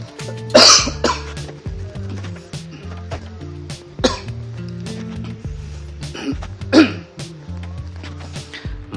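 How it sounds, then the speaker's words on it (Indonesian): A person coughs a couple of times, brief harsh bursts near the start and again later, close by, over a background of soft clicks and handling noises while restarting a Redmi 4A phone with an old faulty battery. "ini nampaknya ini agak batuk sedikit"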